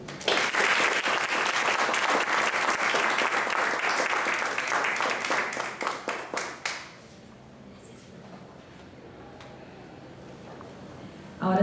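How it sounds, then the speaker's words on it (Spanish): Strong audience applause after a theology symposium panel, sustained dense clapping for about seven seconds that thins into scattered claps and dies away, leaving a quiet room with faint murmuring. "Brindémosles un fuerte aplauso."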